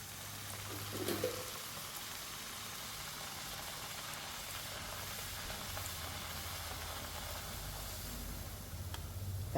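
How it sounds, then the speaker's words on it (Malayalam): Puri fries in hot coconut oil with a steady, fairly quiet sizzling hiss that runs unbroken for the whole stretch. "ഇതാ എണ്ണ ചൂടായിട്ടുണ്ട് നമുക്കിത് ഇട്ട് കൊടുക്കാം"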